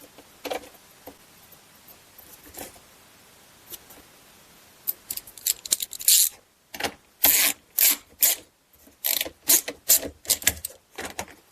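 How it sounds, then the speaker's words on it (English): Bolts being tightened on the plastic tub of a Whirlpool washer: a run of short, sharp ratcheting clicks in quick bursts, close and fairly loud, following a quieter stretch of faint handling noises. No one speaks. "Then we'll tighten up our bolts here."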